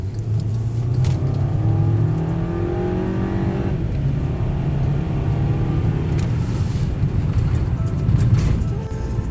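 Volkswagen Eos making 200 horsepower driving down the road, a steady engine and road drone with a low rumble rising through gear changes, continuous and close from inside the cabin.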